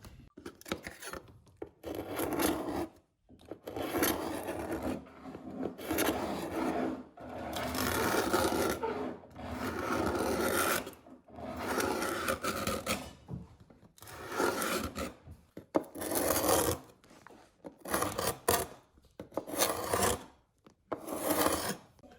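A utility knife blade scrapes packed dirt out of the groove of an old wooden floorboard, producing repeated rasping strokes in bursts with short pauses, close and fairly loud, with no talking.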